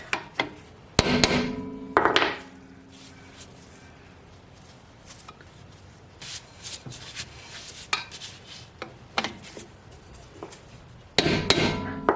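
Hammer taps on the rear brake parts of a 2005 Holden Barina TK during a brake and wheel cylinder job, with sharp metallic knocks in clusters at the start and end and scattered lighter clinks between, fairly close.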